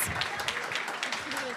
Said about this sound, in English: Can we have a huge round of applause for our incredible investors?